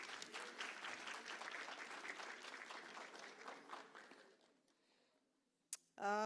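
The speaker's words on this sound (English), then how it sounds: "Another round of applause," Sustained audience applause at a Women's Day event, steady dense clapping that gradually thins and fades out near the end, followed by a brief sharp noise and a burst of something louder.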